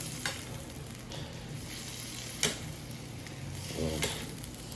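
Cooked shrimp sizzling in garlic butter sauce in a pan, a steady soft sizzle broken by a few light clinks and scrapes as the pan is tossed.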